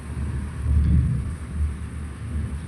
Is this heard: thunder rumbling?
yes